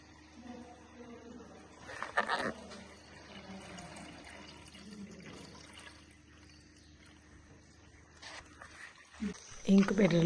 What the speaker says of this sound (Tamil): இது முக்கியமான விஷயம் தண்ணி ஊற்றணும்